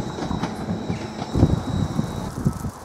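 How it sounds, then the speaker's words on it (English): Class 755 train 755423 pulling out of Ely station towards Norwich: a steady rumble of wheels and motors with light rail clatter, close by, a faint high whine in the background and nobody talking. "The 755423 has now departed, continuing its journey to Norwich."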